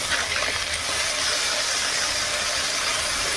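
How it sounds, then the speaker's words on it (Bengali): Bele fish fry in hot oil in a pan, giving a steady, bright sizzling hiss that runs loud and even throughout. "এই যে বেলে মাছ ভাজা হচ্ছে।"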